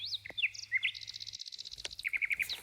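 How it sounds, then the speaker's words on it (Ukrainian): Birds sing in an autumn grove beside a pond, with clear, close chirps and whistled notes repeating in quick varied phrases and a short trilled run near the end; no voices. "цьому гайочку ще чути спів пташок"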